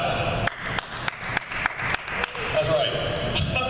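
An audience at a live comedy show claps in scattered, sharp rhythmic bursts, fairly close, as a crowd murmur swells underneath toward the end.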